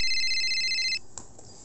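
A bright electronic phone ringtone trills steadily for about a second, then cuts off, followed by a couple of faint clicks.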